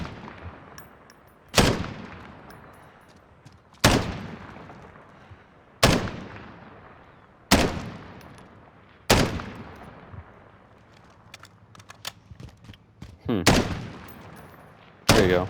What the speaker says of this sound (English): when you fire your rounds, it's going to hit the ground